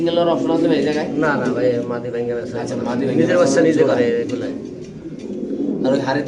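Black Lahori pigeons coo softly at a breeder's pigeon farm, their low, rolling calls running under nearly continuous close conversation between people.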